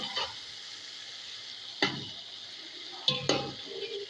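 Tomatoes frying with whole spices in a pot for masala biryani, a faint low sizzle under a few sharp stirring scrapes and clinks of a utensil against the pan, close by with no talk.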